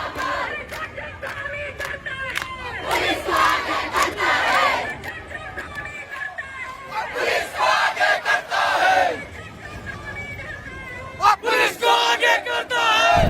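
Hundreds of unemployed youths protesting in a street in Uttarakhand shout and chant together in rhythmic bursts, a loud, dense crowd roar that swells and dips throughout.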